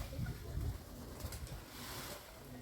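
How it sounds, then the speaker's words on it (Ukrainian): A common pigeon cooing at a zoo, soft low throaty coos repeating in a loose rhythm, close and moderately quiet, with no talking. "О, этот обычный голубь."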